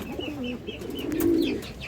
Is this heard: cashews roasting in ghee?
no